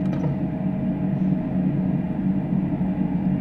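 Steady rumble of a DB BR403 high-speed electric train in motion on the Kassel run in the Train Sim World 3 video game, a continuous low drone with a faint whine and no voices.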